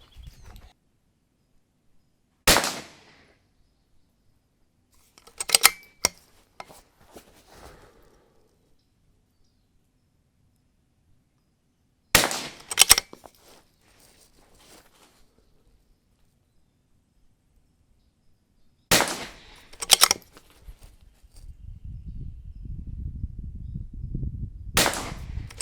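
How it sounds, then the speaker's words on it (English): Sharp rimfire rifle shots from a CZ 455 at an outdoor range, fired from prone at 25 yards; several loud isolated cracks and short pairs spaced seconds apart, then a steady low rumble near the end. "So on this KYL rack, we're shooting pretty well, 25 yards."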